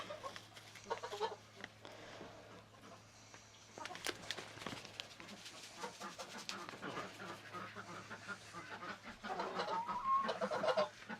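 Chickens cluck and murmur inside a duck house, several birds making soft, irregular calls nearby that grow busier toward the end, with faint background hum.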